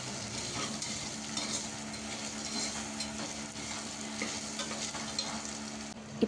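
Carrots and beans fry in hot oil in a pan and are stirred, with a continuous soft sizzle and gentle scraping of the stirring. No one speaks.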